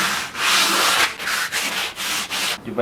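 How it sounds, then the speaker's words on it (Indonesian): Hand sanding the wooden runner edges of a homemade mitre sled gives about six close, rhythmic rasping strokes with short pauses between them. "tapi ya tinggal diamplas saja ya, diamplas saja, dirapikan di bagian pinggirnya"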